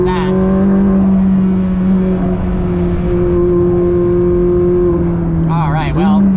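A McLaren P1 HDK race car droning steadily on track at Sonoma Raceway, its engine tone holding through a long pull and rising near the end as it chases a Bugatti Chiron Super Sport; a voice speaks over it.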